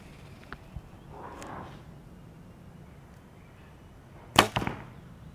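A Bowtech Amplify compound bow is shot once, giving a sharp, loud twang and thump of release near the end after a quiet stretch with faint handling noise.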